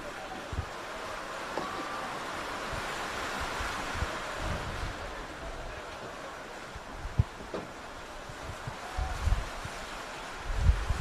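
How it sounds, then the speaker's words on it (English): Heavy rain pours steadily at an outdoor football match in Victoria, a dense, even hiss of drops blowing sideways onto a commentary position, with scattered knocks and gusty wind noise on the microphone. "Rain is really pouring down now."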